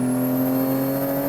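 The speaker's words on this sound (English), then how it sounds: "PDK gearbox is doing what it do." A Porsche Cayman fitted with a 911 Turbo S engine and PDK gearbox drones steadily from inside the cabin, a strong even engine tone holding through the short stretch with no talk.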